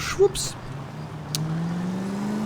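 Game car engine from L.A. Noire hums steadily with a slowly rising pitch as the vehicle drives on, under someone speaking German briefly near the start.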